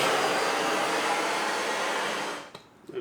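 A heat gun blows a steady, loud hiss of hot air onto the oil pump sprocket of a Yamaha XV1000 engine, then shuts off after a couple of seconds, leaving quiet clicks and handling noises.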